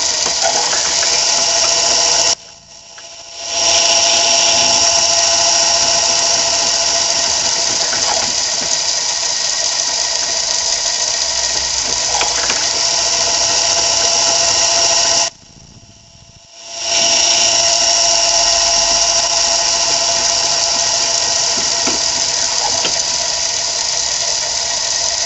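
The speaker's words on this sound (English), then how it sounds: "When you're going to be drilling with the tailstock into a piece that's held in the chuck" A lathe drills into a piece held in the chuck using the tailstock, producing a steady loud mechanical whir with faint squealing that stops briefly twice, near and without talk.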